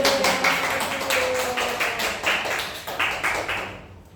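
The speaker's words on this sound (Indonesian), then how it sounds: "Oke, tepuk tangan dulu dong" Classroom students clap together in an Indonesian lesson, a fast, fairly loud rhythmic patter of many hands in repeated bursts, fading out at the end.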